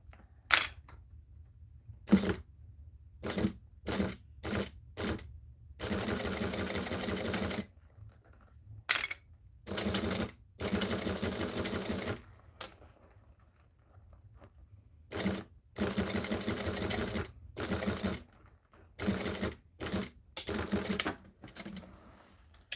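A sewing machine stitches leather in repeated bursts of rapid mechanical clatter, short runs alternating with longer stretches of steady stitching and quiet pauses between, close up with no talking.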